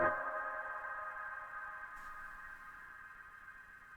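A sustained synth tone from a Waldorf Iridium synthesizer decays slowly into a long, seemingly endless reverb tail, starting fairly loud and fading gradually with a faint breathy blip midway.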